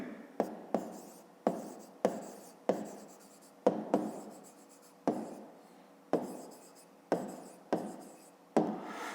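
Pen on paper writing out a 5th-grade maths answer by hand, a steady series of close scratchy strokes, each starting sharply and trailing off, with brief pauses between words and no talking.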